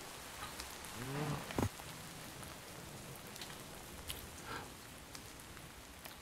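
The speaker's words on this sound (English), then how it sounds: "It's raining. I'll go inside." Rain falling in a Minecraft modpack, a faint, steady patter with scattered soft drop ticks and a short low tonal blip early on.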